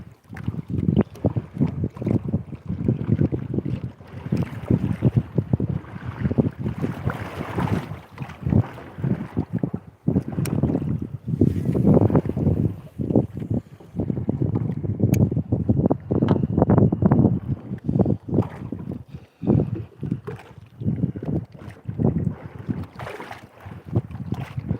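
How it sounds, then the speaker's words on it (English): Gusting wind buffets the microphone on a lake while out in an outrigger canoe, a loud, continuous rumbling roar with rising and falling surges and water splashing around the boat, no talking. "Hopefully this wind will die down and the lake will calm down a little bit."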